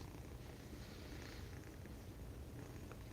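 Two tiny three-month-old kittens purr in a soft, steady, continuous rumble close by, with no voices over it.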